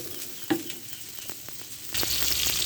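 Chopped onion dropped into hot oil in a pan crackles with a steady sizzle, broken by a sharp tap early on, then swelling louder toward the end.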